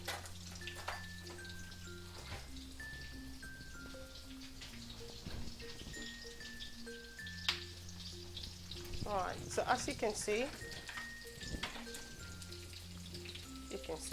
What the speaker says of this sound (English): So whilst the onion is sizzling, I'm just going to keep an eye on my noodles.